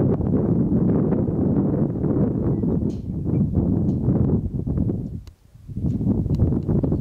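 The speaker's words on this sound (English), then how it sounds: "it's making a cool sound as all the wind passes through them all." Wind gusts past a roadside sign shot full of bullet holes on a desert road, a loud, steady broadband rush buffeting the microphone, with a brief lull near the end before the blowing swells back up.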